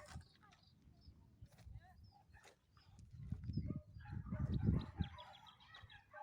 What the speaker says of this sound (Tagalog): Maririnig kami mga ibon.